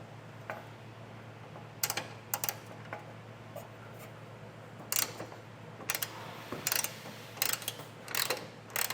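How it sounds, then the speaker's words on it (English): A hand ratchet and socket remove 15 mm bolts behind the rear lights of a 2019 Cadillac XT4 during a trailer hitch installation, giving soft clicking bursts of quick ratcheting strokes, close and fairly quiet, with no talk. "You may just need to use a ratchet and socket for that, opposed to being able to take that off with an impact."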